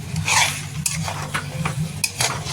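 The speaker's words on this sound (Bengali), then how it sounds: "এবার নাড়তে থাকবো বন্ধুরা, এবার নাড়ার কাজ" Food stirred in a pan, with repeated scraping strokes of a utensil against the metal, close and fairly loud, in short uneven bursts over a low steady hum.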